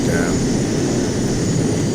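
A JAS 39C Gripen jet cruising at Mach 1.15 in a flight simulator gives a steady, loud roar of broadband engine and wind noise that holds unchanged for the whole stretch.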